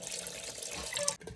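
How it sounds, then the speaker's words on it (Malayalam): Water poured over dry-roasted food to rinse it in a kitchen, a close, hissing splash that runs for about a second before cutting off abruptly. "ഇത് നമ്മള് ഡ്രൈ റോസ്റ്റ് ചെയ്തിട്ട് നല്ലതായിട്ട് വെള്ളം ഒഴിച്ച് ജസ്റ്റ് ഒന്ന് റിൻസ് ചെയ്ത് കളയും കേട്ടോ"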